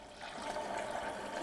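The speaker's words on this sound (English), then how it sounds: "I'm just now going to put a little bit of filtered water into that" Filtered water pours into a blender that holds turmeric and ginger for a jamu tonic. A soft, steady trickle runs for about a second and a half, faint and close.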